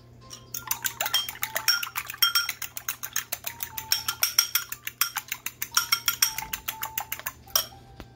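Eggs are beaten in a bowl for an eggnog pie, a quick, regular run of close, crisp taps and clicks of a utensil striking the bowl, with no voices.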